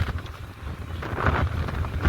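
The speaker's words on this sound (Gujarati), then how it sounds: "પવન એટલો આવે છે." Gusty wind buffets the microphone in low, uneven rumbles on the deck of a Ro-Ro ferry between Ghogha and Hazira, strengthening toward the end, with a faint wash of background noise.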